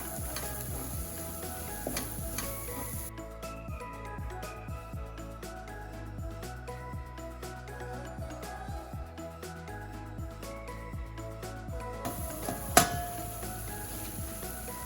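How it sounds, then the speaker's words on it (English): Curry sizzles in a pot while a spoon stirs it, a steady soft frying crackle with scraping strokes and a sharper clink near the end, for a curry crab dish. "I will give it a couple stirs so that it does the process of burning off the raw curry flavor"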